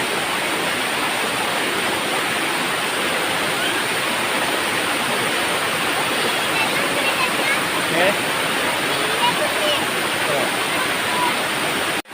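The Chayoth Narathum Kolli waterfall pours over slippery rocks in a loud, constant broadband rush that fills the whole scene from close range, unbroken throughout.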